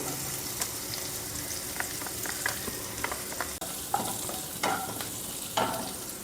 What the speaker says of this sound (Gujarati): લસણ સંતળાઈ ગયું છે, એનો કલર બદલાઈ ગયો છે